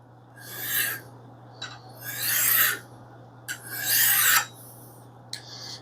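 A small hewing axe is hand-sharpened, with a series of rasping strokes of a file or stone across the bit. There are four main strokes, close and moderately loud, separated by short gaps, over a faint steady hum.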